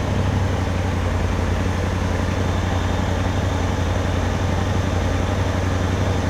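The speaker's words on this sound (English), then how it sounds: "you can still hear the motor of the SMB particle separator over the motor" A Polaris RZR XP engine runs with an S&B particle separator fitted, giving a steady, loud, continuous drone with a strong low hum and broad air noise that holds unchanged throughout, with no talking.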